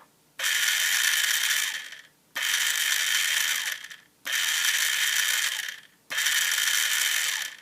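A small battery-powered DC motor spins toy wheels in four separate whirring bursts of about two seconds each, with short silent gaps between them, close and steady with no talking.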